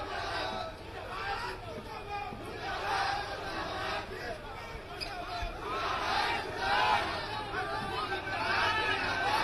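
A large political rally crowd chants "murdabad" slogans in rhythmic waves of shouting, loud and continuous with a dense hubbub of many voices.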